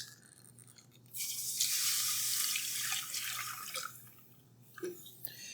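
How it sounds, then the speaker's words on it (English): Milk is poured all at once into a white roux in a pan with the heat off, a steady liquid rush lasting about three seconds, then a few faint drips and clinks in a quiet kitchen. "we're going to pour our milk in all at once"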